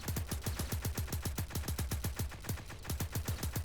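A video game gatling gun fires in one continuous rapid burst, evenly spaced punchy shots rattling on at a steady rhythm, loud and close with no voices.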